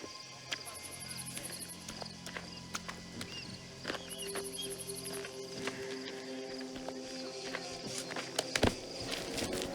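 A horse in the video game Mafia: The Old Country walks with soft, irregular clip-clop hoofbeats over steady ambient game sound, faint and mixed with other effects.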